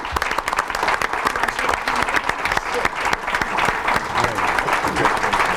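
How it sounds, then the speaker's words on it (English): Steady, dense applause from a seated audience at a school board of education meeting, honoring students, with many hands clapping continuously at even loudness throughout and no speech. "Let's give these students also a round of applause."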